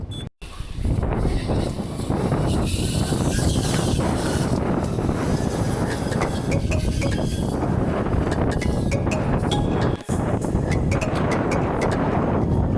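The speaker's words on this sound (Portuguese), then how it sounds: "O vento aqui tá muito doido, velho." Strong outdoor wind buffets the microphone, a loud continuous roar and rumble filling the whole clip, with only a brief dip near the end.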